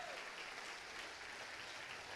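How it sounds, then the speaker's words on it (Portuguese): A standing church congregation claps steadily and continuously, a dense wash of applause from many hands that holds evenly without pauses. "Vamos aplaudir ao Senhor."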